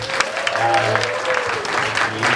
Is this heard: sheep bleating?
no